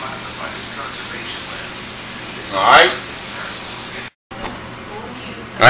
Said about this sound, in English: we're going to take some cooking spray